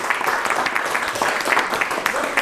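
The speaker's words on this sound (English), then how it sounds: "We need to give Chris a big round of applause." A small group applauds an artist in a home studio, close, uneven clapping with distinct individual hand claps and some voices mixed in.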